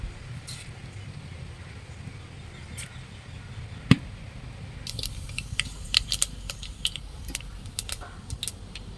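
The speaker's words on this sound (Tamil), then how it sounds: "கடுகு வெந்தயம் நல்லா பொரிஞ்சிருச்சு" Mustard and fenugreek seeds splutter in hot sesame oil over a wood-fired stove, a quiet bed of sizzle joined near the end by a flurry of sharp, close pops.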